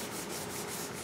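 Steady close rubbing scratch of sanding polyester glazing putty applied over paint runs, a continuous rasping stroke with faint rhythmic pulses, no voices.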